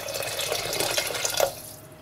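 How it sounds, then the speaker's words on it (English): Pre-boiled water from a kettle pouring into a pot in a home kitchen, a continuous splashing liquid stream that ends abruptly, close by with no talking. "So this is pre-boiled water from a kettle."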